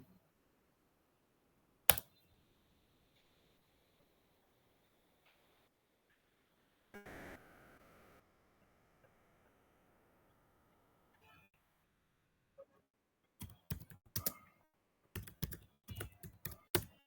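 Computer keys click in scattered sparse taps with a longer pause, then a quick cluster of keystrokes including the enter key near the end, close but quiet in a silent room.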